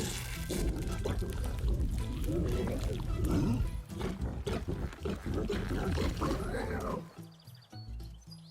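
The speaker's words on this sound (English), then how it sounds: "The pig's stomach made an almighty sound." A deep, loud gurgling rumble of a large pig's stomach growling in the video game The Last Campfire rolls on for several seconds, swelling and dipping before tapering off.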